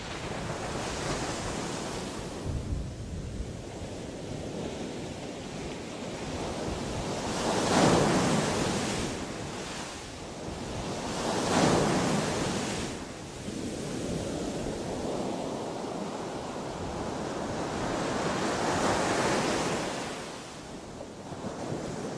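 Sea waves breaking on the eroding shore at Keta, a continuous roar of surf with wind noise, swelling in several loud surges and then easing back, with no voices.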